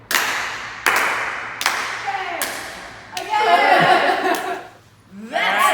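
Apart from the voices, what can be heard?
Norwegian clap hand-clapping game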